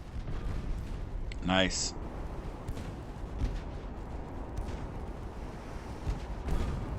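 Naval guns fire in a battle in the game Ultimate Admiral: Dreadnoughts, with heavy low booms and rumbling rolling under constant engine-like noise while someone speaks briefly.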